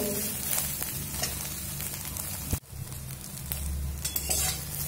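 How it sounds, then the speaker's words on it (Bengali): Soya chunks fry on a medium flame, a steady close sizzle with occasional stirring scrapes and a brief dip in the middle before the frying noise resumes, no voices. "এবার আমি মিডিয়াম ফ্লেম করে সয়াবিনটা ভেজে নেব"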